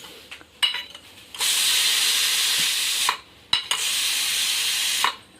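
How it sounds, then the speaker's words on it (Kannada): A pressure cooker cooking rice in a village kitchen lets out long, loud hissing bursts of steam, each lasting a second or more, separated by short quiet gaps and a few faint clinks of pots. "ಇವಾಗ ನೋಡಿರಿ ಕುಕ್ಕರ್ದಾಗ ಬಿಸಿ ಬಿಸಿ ಅನ್ನ ಮಾಡೀನಿ"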